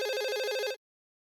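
A landline telephone rings at home in a comedy sketch, one close, loud electronic ring burst lasting under a second that stops abruptly into silence.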